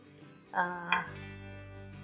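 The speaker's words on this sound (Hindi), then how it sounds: "इसमें मैंने डाल दी 2 छोटी दरमियानी साइज़ की प्याज" Knife chopping two smallish-medium onions on a board for a gravy base, a couple of sharp close cuts followed by a faint lingering hum, no talking.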